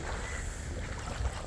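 Cold wind blowing steadily at an outdoor temple site, a constant low rushing roar with faint gusty swells, no talk.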